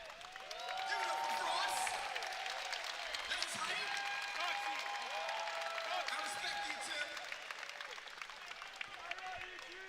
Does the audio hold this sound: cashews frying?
no